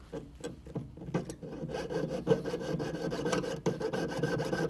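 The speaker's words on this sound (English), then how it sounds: "I'm going to use it as a jeweler saw with a little lubrication on there." A jeweler's saw with a little lubrication cuts the bail off a silver pendant, giving quick scraping strokes that start in short bursts and then settle into a steady, fast rasping rhythm up close.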